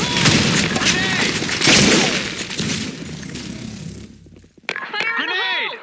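Gunfire and grenade blasts in a casual online shooter on the Sand Storm 2 map: sustained, loud rattling bursts of shots and booms that drop to a brief lull before shouted voice callouts and more firing.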